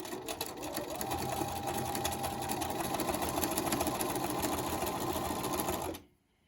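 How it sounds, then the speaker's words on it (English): A sewing machine stitches two pieces of fabric laid right sides together, running steadily at a fast, even hum with rapid needle chatter for about six seconds, then stopping abruptly. "just using the 1/2 inch mark on my plate, I'm going to sew 1/3 across."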